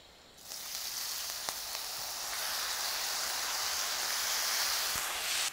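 Mushrooms frying in a pan of well-heated fat, a loud steady sizzle that starts abruptly and continues without a break, with a few small pops and no talk.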